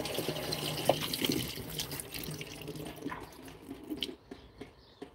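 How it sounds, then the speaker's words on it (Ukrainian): A little water is poured in a vegetable garden, a faint, steady splashing trickle that runs for several seconds over soft background noise. "Сюди небагато водички налью."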